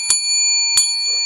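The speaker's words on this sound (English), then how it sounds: "That rings four bells." A bell rings twice with clear, sustained metallic tones, each strike sharp and close, the tone lingering steadily between the two hits.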